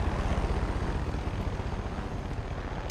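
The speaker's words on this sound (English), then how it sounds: "Oh boy, there's a chopper." A helicopter in Far Cry 5 Hours of Darkness thunders nearby with a loud, steady rotor thump and engine roar that holds throughout.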